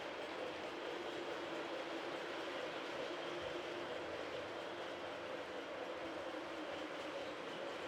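Steady rumbling roar of a model train running along its track at a model railroad club, continuous and fairly loud throughout, with faint rhythmic clatter underneath.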